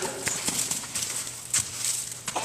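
A horse steps backward during a groundwork session ahead of saddling, with several soft, irregular hoof thuds and clops on the ground and faint outdoor noise behind them.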